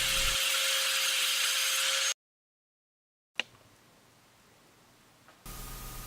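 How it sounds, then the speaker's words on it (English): An angle grinder cuts a groove into the face of a homemade fly reel part, giving a loud, steady abrasive hiss that stops abruptly, leaves a silent gap, returns quieter after a sharp click, then swells loud again. "there are many better ways to put a groove in the face of a part than to use an angle grinder"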